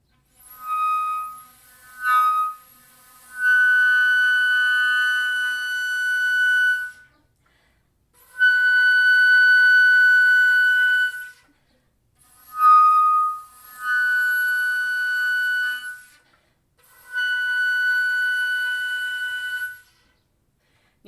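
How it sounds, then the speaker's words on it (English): Sustained flute notes in the upper register played in several separate phrases, comparing harmonic and normal fingerings, each held tone bright and clear with a pause between, no talking. "So I'll just play the harmonic fingering and then show you the normal fingering in comparison"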